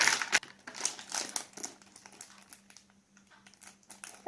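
Plastic wrapper of a LOL Surprise doll pet crinkling close up as it is torn open, irregular crackling bursts that come thick at first and then thin out.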